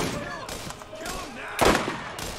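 Shotgun blasts in the shooter game Borderlands ring out over ongoing game chatter and voices. Several punchy shots land, with one louder, broad blast standing out near the end.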